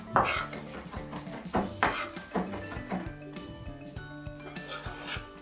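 Mushroom sauce ingredients being ground and mashed in a dish, with repeated scraping knocks of a utensil against the dish at an uneven rhythm, close and fairly clear, with a faint murmur of background sound throughout.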